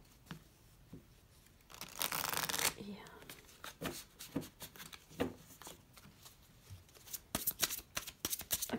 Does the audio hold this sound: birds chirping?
no